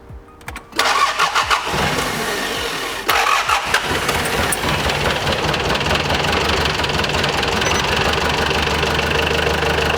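An old project car's engine cranks and catches, then settles into a steady, loud idle with a low rumble and slight knocking throughout.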